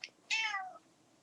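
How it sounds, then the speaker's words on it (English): A cat gives a single short meow, a clear rising-then-falling call lasting under half a second, preceded by a tiny faint chirp, heard close and quiet against a silent background. "What Helen's cat said."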